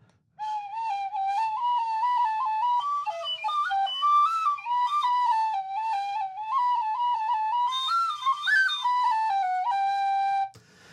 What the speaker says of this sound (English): It's underblowing.